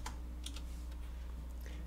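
Someone types on a computer keyboard while entering Python code, a handful of light, irregular key clicks close by over a low steady hum, with no talk.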